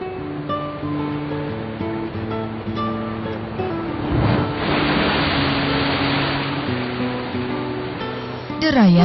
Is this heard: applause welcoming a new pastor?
no